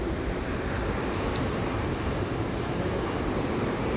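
Ocean surf rolls in steadily on the beach at Cheru Rock, a dense continuous roar with some wind on the microphone and no distinct individual wave breaks, no voices.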